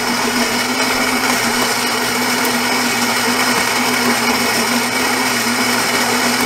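Philips 3200 LatteGo coffee machine runs just after start is pressed, a loud, continuous mechanical whir with a steady hum, close by and uninterrupted, with no talk.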